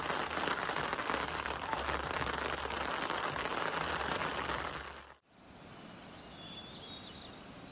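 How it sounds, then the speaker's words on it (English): Steady rain pattering on surfaces at a campsite in Medano Pass, Colorado, a dense hiss that suddenly cuts off and gives way to a quieter background with faint chirps. "It started to rain."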